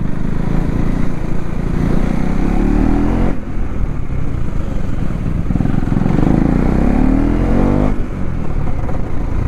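Motorcycles race around a track at the RC Cup 2024 in Kolkata. Loud, close engines rev and whine in rising sweeps, changing pitch as the bikes accelerate and pass, with no talk heard.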